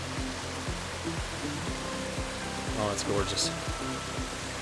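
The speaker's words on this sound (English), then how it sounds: "We definitely have a little more water flow down here from all the rain last night." Stream water flowing steadily after overnight rain in the Adirondack High Peaks wilderness, a broad continuous rush close by, with a person speaking briefly over it.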